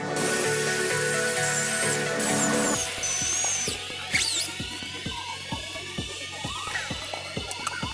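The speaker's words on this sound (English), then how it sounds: "I drilled a pilot hole, and then a bigger hole, and then an even bigger hole" Holes being drilled in a radiator bracket for a drift car project: a steady power-tool whine at first, then a stretch of rapid ticking and clicking with short squeals.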